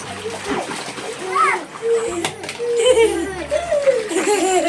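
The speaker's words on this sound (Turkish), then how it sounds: "Hadi su savaşı yapıyoruz." Water splashing in an outdoor pool as children fight with toy water guns, bursts of splatter mixed with kids shouting, laughing and giggling close by throughout.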